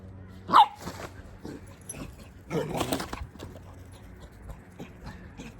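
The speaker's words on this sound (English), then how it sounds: "Got a new puppy." A single sharp puppy bark rings out near the start, followed by softer yips and whimpers against a quiet background.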